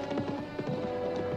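Rapid hoofbeats clatter in a quick rhythmic pattern, fairly faint, like a horse moving at speed over hard ground.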